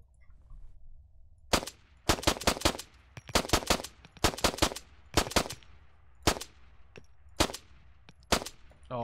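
Black P99 pistol fired repeatedly in ArmA 3, loud sharp shots in irregular bursts of two and three with short pauses between, alone without talk.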